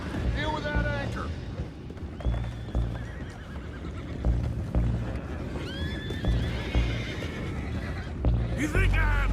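Horses whinny repeatedly in Red Dead Redemption 2 amid steady hoof clip-clop and dense game noise, with rising and falling neighs near and loud, under occasional voices.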